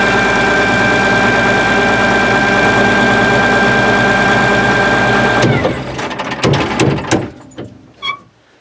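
A Link Belt 2800 crane's diesel engine idles in a steady, loud drone, then is cut off with a mechanical shutoff partway through, leaving scattered clanks and rattles as it winds down.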